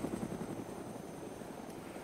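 Helicopter rotor and engine drone from the DayZ mod video game, a steady low throbbing whir that holds at an even, fairly quiet level throughout, with no talk.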